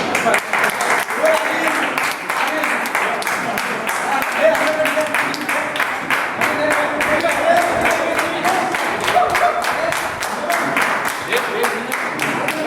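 Sustained audience applause and clapping fill a reunion gathering of 1981 high school batchmates, a dense, steady patter of many hands continuing loudly throughout.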